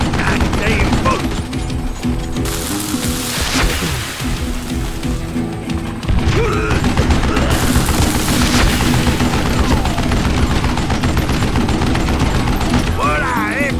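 Gunfire in the western shooter Call of Juarez Gunslinger: dense, loud volleys of shots and bursts crackle almost continuously, with voices talking over the shooting.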